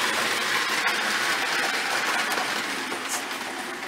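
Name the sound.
toy electric train running on track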